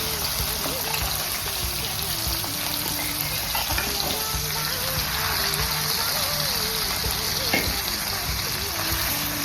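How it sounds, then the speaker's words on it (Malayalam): Prawns frying in coconut oil for a pickle, a dense, loud, continuous sizzle like heavy rain, steady throughout with no breaks. "വെളിച്ചെണ്ണയിലിട്ട് ഫ്രൈ ചെയ്യാനായിട്ട് ഇടുകയാണ്."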